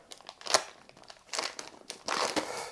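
Crinkly packaging being torn open and unwrapped around a Vitavon aluminium center differential for a Traxxas X-Maxx, with sharp crumpling bursts and rustling in several uneven bouts, close and fairly quiet.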